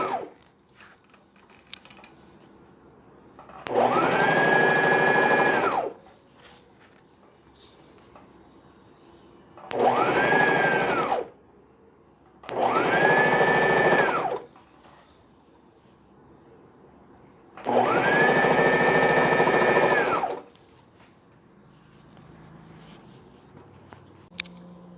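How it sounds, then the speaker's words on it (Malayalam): A sewing machine stitching single piping onto a baby frock, running in four separate bursts of steady motor whir, each a couple of seconds long, with quiet pauses between. "അത് ഞാൻ ബാക്ക് സൈഡിൽ നിന്ന് ഫ്രണ്ടിലേക്കാണ് സ്റ്റിച്ച് ചെയ്യുന്നത്."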